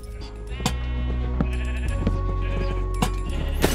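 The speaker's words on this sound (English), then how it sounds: "no sheep can escape my sheep farm" Sheep bleat repeatedly in a Minecraft sheep farm, with several overlapping nasal calls over steady game background music and no talking.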